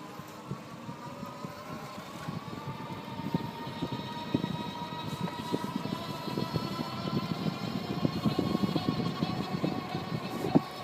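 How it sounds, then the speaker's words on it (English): The electric hub motor of an IZIP E3 Ultra e-bike whines uphill on twist-and-go throttle, a steady tonal hum with rising pitch, surging and dropping as the motor cuts in and out, with road rumble beneath. "You can also hear the motor cutting in and out a little bit"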